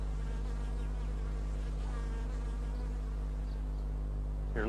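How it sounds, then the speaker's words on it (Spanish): Honeybees buzzing steadily around a beekeeper's flowering crops, a continuous close drone with no talk over it. "Para John Miller, el sonido de las abejas es como el sonido del dinero."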